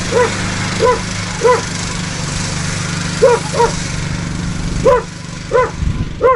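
A small dog yaps in short pairs and triplets over a steady, loud engine drone from a homemade all-terrain vehicle, the barks clear and fairly close.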